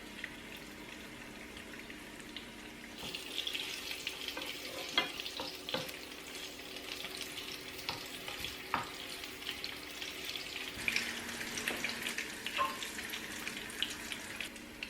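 Fish coated in a ground spice paste with shallots and curry leaves frying in a pan, a steady close sizzle with scattered pops and crackles, getting busier partway through, no voices.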